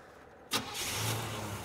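A Chevrolet SS engine cranks and catches with a sharp burst, then settles into a steady, close idle, with no voices.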